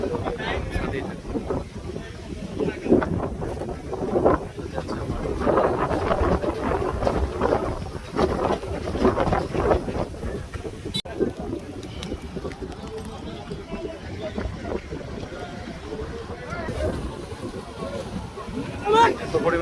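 A crowded passenger boat travels on the Brahmaputra river, its engine rumble mixed with gusting wind buffeting the microphone, while people talk over it.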